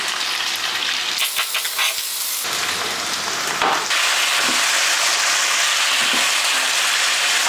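Onions sizzle with turmeric in a pan, first with a few clatters and stirring scrapes, then settling into a steady loud frying hiss without any talking.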